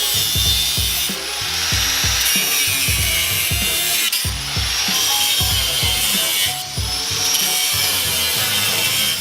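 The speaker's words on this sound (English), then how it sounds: "Got our grinding disc." Angle grinder with a grinding disc cutting welded tabs off a Subaru WRX, a loud continuous harsh grinding with rhythmic surges and scraping metal contact throughout.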